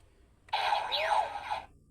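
VS Changer toy from Super Sentai Patranger fires its electronic shooting effect, a single bright synthetic zap about a second long with sweeping pitch, close and alone against quiet background.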